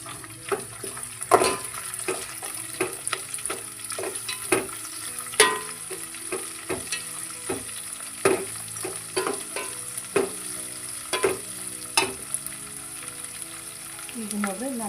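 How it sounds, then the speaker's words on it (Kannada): Sliced onions with curry leaves frying in a pan as a spoon stirs them, a steady sizzle broken by repeated scraping taps against the metal, close and clear, with no talking. "ಉಳ್ಳಾಗಡ್ಡಿ, ಸ್ವಲ್ಪ ಚೆಂದಾಗಿ ಮಿಕ್ಸ್ ಮಾಡ್ತೀನಿ."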